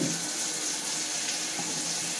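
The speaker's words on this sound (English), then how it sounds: "Look at my doggy taking a shower." A shower sprays water steadily over a dog being washed, giving a continuous hissing splash at close range with no talk.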